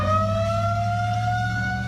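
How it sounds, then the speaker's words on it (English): A steady, sustained outdoor severe weather warning siren wails at a constant pitch over a low engine-like hum, loud and continuous throughout, in a community outside Grand Rapids, Michigan. "this button on a computer screen at the Kent County Dispatch Center sets off the sirens"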